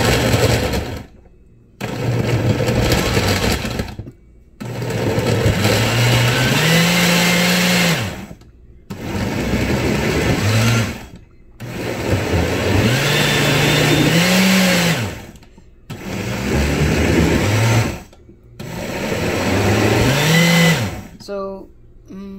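A kitchen blender whirring mango and strawberries into juice, loud bursts of several seconds each separated by short pauses, with pitch shifts as the blades load and free up.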